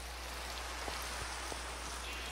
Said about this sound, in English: Oh no, rain. It's raining.